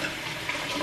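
Lukewarm tap water runs steadily from a faucet into a cooking container, a continuous close hiss and splash with no pauses and no voices.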